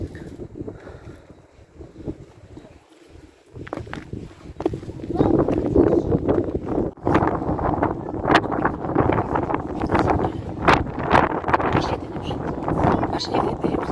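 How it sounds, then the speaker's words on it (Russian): Very strong wind buffets an exposed hillside on Mount Mithridat in Kerch, roaring loudly and steadily across the microphone with gusty surges, while people talk and footsteps scuff underneath. "Очень сильный ветер, да, прям очень сильный."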